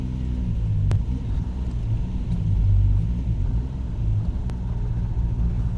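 A Triumph TR6 with a modified frame, fitted with a new Nissan differential and CV axles, drives along with a steady low engine and road rumble, close and continuous, with a couple of faint clicks.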